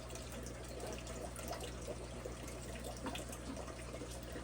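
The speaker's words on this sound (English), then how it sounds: "We're gonna just dump them into the water." Water pours steadily as live fish shipped in a bag are dumped into a home aquarium tank, a continuous close splashing and trickling rush with no talk.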